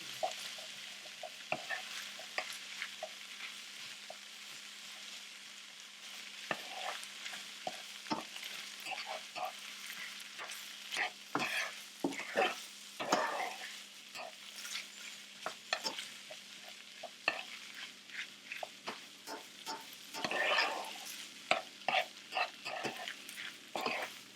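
A spatula stirs tomato paste into shepherd's pie filling in a pan, making quiet, repeated scraping and mixing strokes with a faint sizzle underneath.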